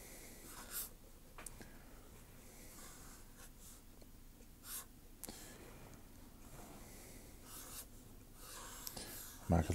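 Pencil sketching a pair of ice hockey skates with buckle clips on paper, a steady soft scratching and rubbing of graphite that runs throughout, with a few louder strokes and a sharper knock at the very end.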